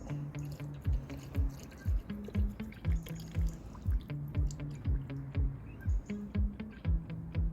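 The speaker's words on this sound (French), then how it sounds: "j'ai mis 10 litres dans mon seau et je verse le flacon" Shiny Garage car shampoo poured from its bottle into a bucket holding 10 litres of water, a steady run of rhythmic glugging gurgles and drips, close by and alone with no talking.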